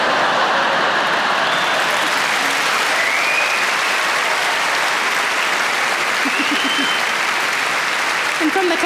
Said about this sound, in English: And from the clapping, I can tell I'm not the only one.